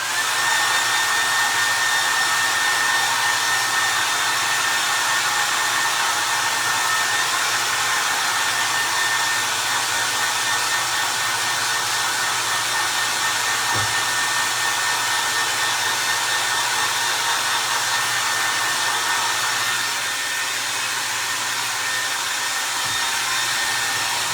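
A hair dryer on a high setting blows continuously to dry craft pieces, a loud, steady whooshing hum that drops slightly in level near the end, with no talking.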